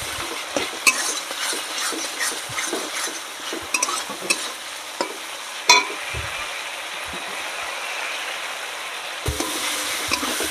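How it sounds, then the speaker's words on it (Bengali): Mustard and cumin spice paste frying in oil for a tilapia or bata fish curry, stirred with repeated sharp scrapes and clinks against the pan over a steady sizzle, close and busy, then a calmer hiss. "তো দেখো আমার মশলাটা কষানো হয়ে গেছে।"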